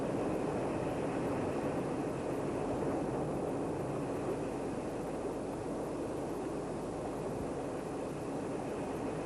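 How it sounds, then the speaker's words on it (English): Aircraft on its approach and landing on runway 27, a steady broadband engine and airflow roar that stays loud and unbroken throughout with no voices. "That was a terrible landing, Barlow."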